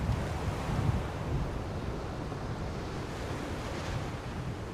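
Strong wind in the video game DayZ roars as a continuous, rushing gust noise with buffeting low-end swells, steady and fairly loud with no speech.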